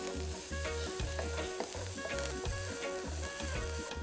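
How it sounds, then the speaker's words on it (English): Garlic sizzles steadily in a hot pan while being stirred, with a constant crackling fry broken by repeated scraping strokes of a utensil. There are no voices. "In goes our garlic, give it a quick stir."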